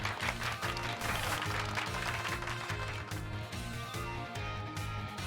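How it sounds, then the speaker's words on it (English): Applause from a crowd in the video game Pokémon Scarlet, a steady, faint patter of clapping that runs throughout with a regular rhythmic backing beneath it. "Give Pikachu a round of applause, everyone."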